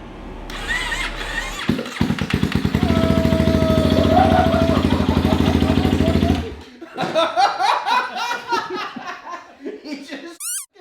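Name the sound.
motorcycle engine cranking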